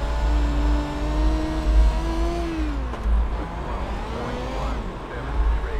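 Dirt midget race car engine in iRacing at the Chili Bowl, revving hard with a rising and falling whine as the throttle is worked, loud and close, with pitch sweeps and a brief drop midway.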